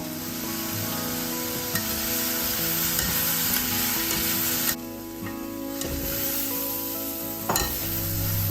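Mushrooms roasting in a pan with a pinch of turmeric, giving a steady close sizzle with occasional scraping and stirring clatter.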